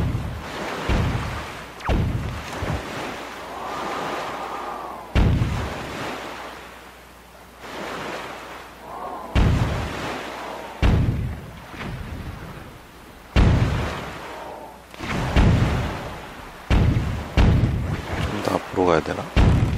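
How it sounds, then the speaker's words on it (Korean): Deep cannon booms go off every few seconds in The Legend of Zelda: The Wind Waker. The loud, repeated blasts ring out over steady ocean surf and wind. "대포가 많네요."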